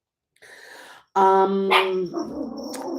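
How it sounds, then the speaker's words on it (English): Dogs bark loudly and close by outdoors, a brief lower whine followed by a sustained harsh bark and yapping, with a high squeak near the end. "Oh, these darn dogs."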